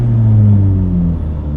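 Exhaust of a Porsche 991 911 GT3 RS, a loud, close, steady engine drone whose pitch glides down and then settles, heard alone with no voices.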